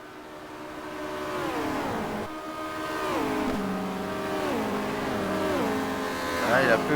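Touring race cars lapping the Nordschleife in a 1990 WTCC race, engines droning and shifting pitch steadily as they rise and fall through gears, with a Peugeot among them, heard throughout under a commentator's voice.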